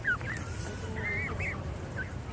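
Geese with goslings at Prince's Island park in Calgary give a few short honks and squawks, fairly close, over a steady outdoor rumble of wind and background noise.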